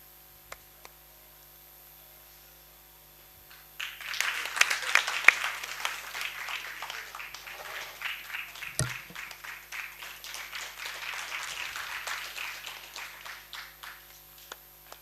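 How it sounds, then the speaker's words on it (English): After a few seconds of quiet hum, an audience at a young achievers conclave in an institute hall breaks into sustained applause for award recipients, clapping steadily at moderate distance. "big round of applause for them"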